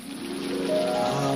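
A brief rain shower, a steady hiss of falling rain with a tonal hum rising underneath, close and fairly loud.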